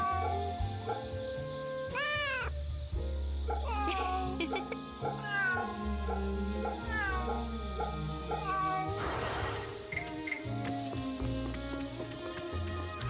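A cat in the video game Remnant meows repeatedly and clearly, in several rising and falling calls over background game music, loud and close.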